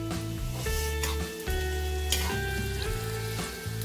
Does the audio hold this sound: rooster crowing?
no